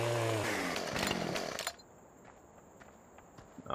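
Chainsaw cutting a log in Farming Simulator 17, a loud buzzing engine roar for under two seconds that cuts off abruptly, leaving a faint steady hum.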